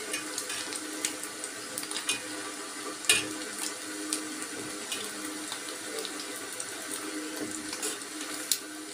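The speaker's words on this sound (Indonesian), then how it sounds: "Saya tengah goreng telur" An egg frying in oil in a home kitchen: a steady, fine sizzling crackle runs through the whole stretch, with scattered sharper pops and a few louder spits, close and continuous, with no voices.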